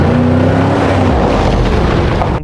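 UAZ 452 van driving along, a loud, steady low engine drone with rumbling mechanical noise throughout, close up and continuous.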